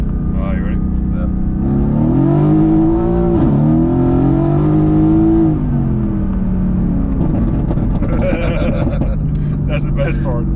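A 2016 Mercedes-AMG GT S accelerates hard with a loud, rising engine note that climbs for a few seconds, then drops back to a lower rumble, with people talking during and after the run.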